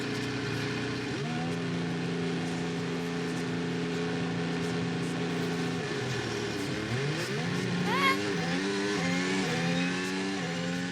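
Max Verstappen's Formula 1 car at the 2023 Singapore Grand Prix revving during a practice launch: a steady high-pitched engine drone that drops, then climbs again through rising tones as the car pulls away, loud and continuous with no talk.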